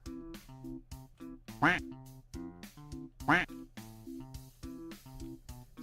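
Repeated cartoonish duck quacks triggered by a stream chat command come in quick succession, loud and close, with a couple of longer, more emphatic quacks standing out among the short ones.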